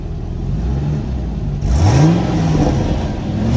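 A 2005 Chevrolet Corvette C6 with original exhaust revs close by, idling then jumping sharply into a loud rising rev that sweeps up and settles back into a rumbling idle.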